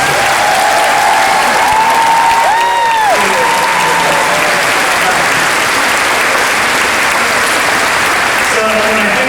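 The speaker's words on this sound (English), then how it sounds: "We give them one more round of applause." Loud, dense round of applause from a school district kickoff audience, continuous and sustained, with faint overlaid cheering or whoops early on.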